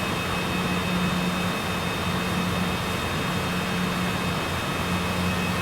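Steady, continuous drone of a simulated Cessna aircraft engine in Microsoft Flight Simulator, flying into Svalbard, with a constant hum running loud and unchanging throughout and no talk.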